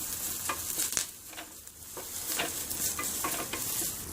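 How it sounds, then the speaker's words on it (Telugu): Curry leaves and turmeric hiss and sizzle in a hot pan while being stirred for a masala dosa potato filling, with soft scraping strokes recurring over a steady frying crackle, close and moderately quiet. "కొద్దిగా కరివేపాకు దీంతో కొద్దిగా పసుపు వేసుకొని ఒకసారి కలుపుకోవాలి"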